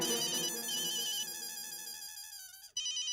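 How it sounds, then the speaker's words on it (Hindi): A phone ringtone plays a repeating electronic melody, fairly loud and close, then cuts off abruptly near the end. "जेठालाल का फोन"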